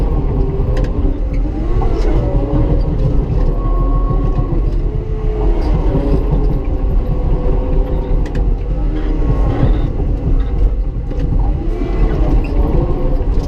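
A bulldozer's engine drones loud and steady up close as its blade rocks and pries a large tree stump from the ground, with occasional creaks and clanks over the continuous rumble.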